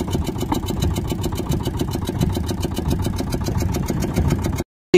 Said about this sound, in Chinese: 然后我们把机器启动一下吧